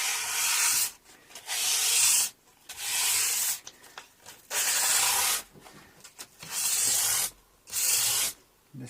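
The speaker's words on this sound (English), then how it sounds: "I'm not sure how good this sandpaper is, but you can use it wet or dry, but I'm just using it dry" A Les Paul copy guitar body is dry-sanded with wet-or-dry sandpaper in long back-and-forth strokes, each a loud, close, hissing rasp about a second long, separated by brief pauses, with no talking.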